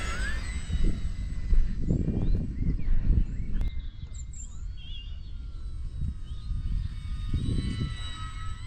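An E-flite Mini Draco RC plane running on a 4S battery flies past in light wind, its electric motor whining steadily and fairly loud, rising and falling as it climbs and banks, with wind rumble underneath.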